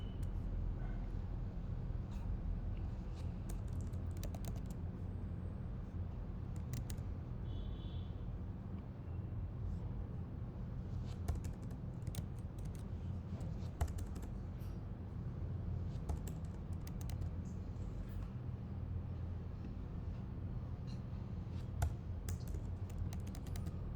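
A computer keyboard is typed on in quick irregular bursts of soft clicks, close and fairly quiet, over a steady low background hum.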